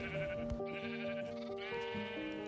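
Sheep bleat in Minecraft, several wavering calls in close succession that fill the whole stretch at a fairly quiet level, with no talking.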